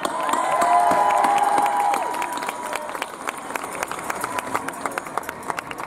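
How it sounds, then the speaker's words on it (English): An outdoor crowd in Glasgow's George Square applauds and cheers after a speaker at an anti-Trump rally, a dense swell of clapping and voices that thins into scattered, uneven claps. "Another round of applause for Carol Lola."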